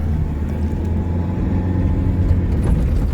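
A Mahindra Scorpio-N pulls away in second gear in the Kalahari, its engine giving a loud, steady low rumble from inside the cabin.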